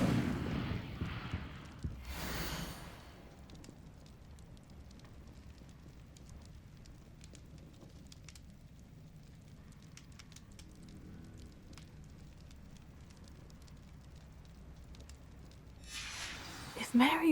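An Incendio fire spell flares in Hogwarts Legacy with a sudden whooshing burst, then a long stretch of faint crackling and low rumble before another rushing flare at the end.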